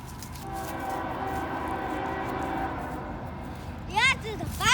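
A CSX freight train, the fast Q455 hauling rock cars with a mid-train DPU, rumbles steadily past at around 60 mph, its broad rolling drone filling the scene before a brief shrill squeal near the end.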